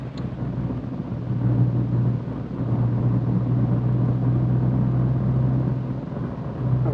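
A 1.6-litre car engine runs steadily at idle, a low continuous rumble with a droning hum that holds near and fairly loud, dipping slightly near the end.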